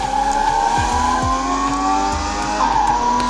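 A Subaru Impreza races in the video game Driving Limits, its engine droning at high revs with tire squeals and skids as it corners, loud and continuous with no voice over it.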